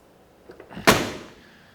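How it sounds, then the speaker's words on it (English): Passenger-side door of a 1967 Mercury Cougar XR7 opening, a couple of faint clicks of the handle and latch followed by one sharp close-range clunk that fades out. "when you open up the passenger side door"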